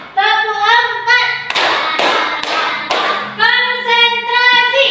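Rhythmic hand clapping in a classroom ice-breaking game, several sharp claps in a steady pattern between stretches of a voice speaking and chanting.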